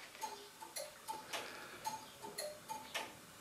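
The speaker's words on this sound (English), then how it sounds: "which is a precision pendulum clock, the long case one in the background, and what is called a waiting train clock in the foreground" A Gents precision longcase pendulum clock ticks in a steady, even rhythm of crisp, fairly quiet beats, about two per second.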